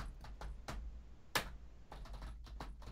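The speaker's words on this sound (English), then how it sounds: "You're typing." Someone types on a computer keyboard in quiet, irregular bursts of key clicks, with one sharper keystroke partway through and no voices.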